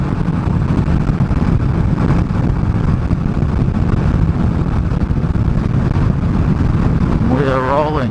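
A Yamaha motorcycle engine with freshly synced twin carburetors hums steadily at highway speed, a constant low drone buried under heavy wind rush throughout, with a brief rising whine near the end.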